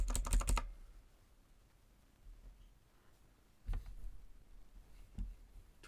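Quick bursts of typing on a computer keyboard, a dense clatter of keystrokes at the start followed by a long quiet stretch and two more short taps near the end, close and fairly soft.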